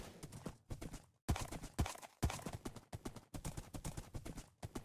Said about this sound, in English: I want to keep this horse alive. It is so fast.